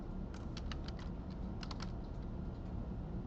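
Keystrokes on a computer keyboard as shell commands are typed for a Samba file-sharing setup, a quick uneven run of close clicks over a steady low hum, no voices.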